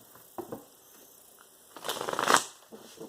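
Tarot cards are shuffled by hand in two soft riffling bursts, close and quiet, with a brief papery patter between them.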